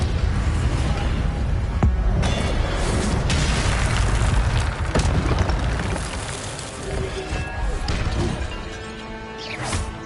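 Fiery spell blast from Incendio in Hogwarts Legacy, a loud booming burst that rolls on through sustained crackling combat noise, with smaller whooshes and impacts trailing off near the end.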